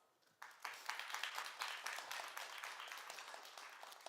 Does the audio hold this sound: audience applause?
yes